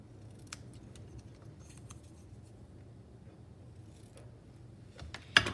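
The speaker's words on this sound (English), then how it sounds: "I'm going to cut an angle at each end" Scissors snip an angle into the end of a paper strip of patterned cardstock at a crafting table, a few soft faint cuts with a louder closing snip at the end.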